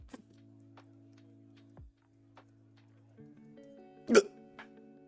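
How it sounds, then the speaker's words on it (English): Indoors, a person gets sudden hiccups, with one sharp, loud hiccup near the end. Before it, a low electronic hum and a couple of small clicks sit in the quiet background. "my body decided now is the perfect time to get hiccups."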